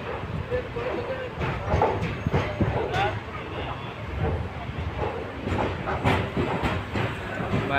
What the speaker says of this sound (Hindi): तो वाइज फाइनली अपनी ट्रेन निकल चुकी है देहरादून टर्मिनल रेलवे स्टेशन से